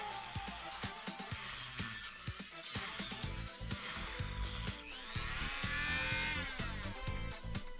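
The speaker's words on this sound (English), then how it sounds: "we actually need to use the Dremel" A Dremel rotary tool cuts metal in a home workshop for a DIY ultrasonic knife, giving a sustained high whine broken by repeated short knocks and clicks, with the pitch sweeping as the load changes.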